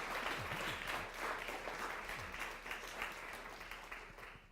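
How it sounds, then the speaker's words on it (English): A lecture audience at a jazz culture talk gives a round of applause, a fairly faint, distant patter of many hands that slowly tapers off. "let's give them a round of applause."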